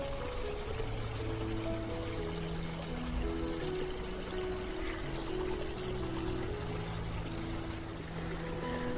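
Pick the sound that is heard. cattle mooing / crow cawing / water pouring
water pouring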